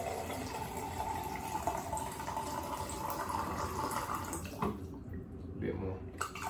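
Water poured from a jug into a GFUEL shaker cup, a continuous splashing fill heard up close and fairly quiet, with a person talking over it and the pour breaking off near the end.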